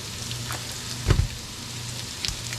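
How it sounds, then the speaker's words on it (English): Steady, soft sizzling of a pound of 80-20 ground chuck frying in a pan, with a couple of brief clattering stirs partway through. "it can cook down while I'm frying my meat"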